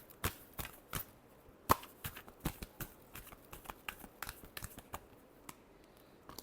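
Tarot cards shuffled by hand as a quiet run of sharp, irregular taps and slaps, close but faint, with no voices.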